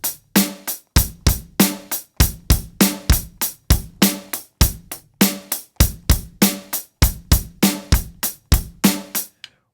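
A drum kit beats out a groove, a two-bar pattern looped several times. Punchy kick and crashing snare hits land in a steady, loud, close rhythm with sharp attacks and quick decays, and no voices are heard.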